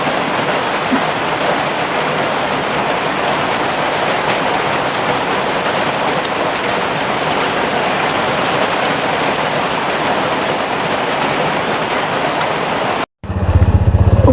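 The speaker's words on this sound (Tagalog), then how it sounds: "Maulan, yung maririnig." Steady, dense rain hisses loudly and evenly for a long stretch, then cuts off abruptly into a different rushing, rumbling noise.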